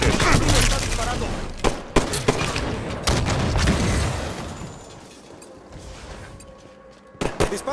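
Gunfire in a Halo 5: Guardians Arena Slayer match on the Coliseum map: rapid bursts of shots and sharp booms crowd the first half, thin out, then a final cluster of shots cuts in at the end.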